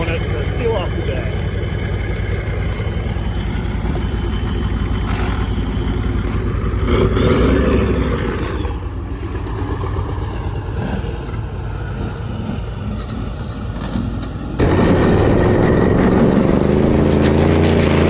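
A small front-wheel-drive stub truck spins a reverse donut in sand dunes, its engine revving loudly and steadily throughout, with a sharper surge of throttle near the end; voices can be heard under the engine.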